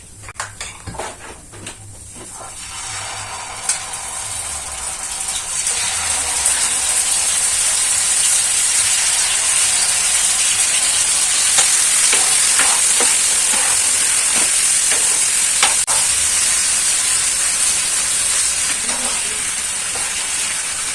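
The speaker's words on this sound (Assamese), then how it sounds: "তেলখিনি গৰম হোৱাৰ লগতে এই মাংসখিনি এপিচ এপিচ কৰি ভাজি লম।" Chicken pieces frying in hot oil, a few clattering pan knocks at first, then a loud, steady sizzle and hiss that holds for a long stretch without any talking.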